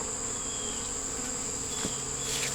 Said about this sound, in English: That's bees running around in there looking for something.